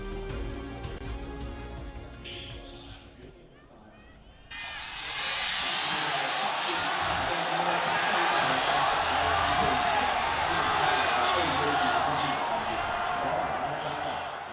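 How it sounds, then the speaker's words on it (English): A packed esports arena crowd at a League of Legends LPL Spring Finals match cheers loudly and steadily, a sustained roar swelling after a quieter start with whoops rising above it. "The crowd is ready. They want Game 5."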